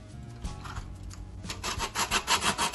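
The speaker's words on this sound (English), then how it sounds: "I'm gonna grate my lemon. I'm gonna use one lemon to grate with my grater." Whole lemon rubbed against a grater, starting irregular then settling into a steady run of rhythmic scraping strokes that grow louder, close by.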